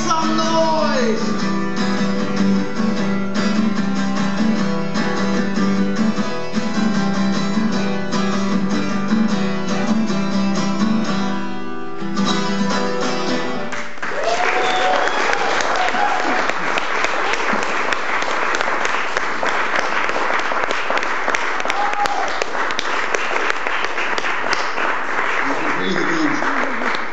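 At a rock-and-roll poetry performance, an audience bursts into loud, sustained applause and cheering, following a stretch of music and a voice, with the clapping crowd filling the second half.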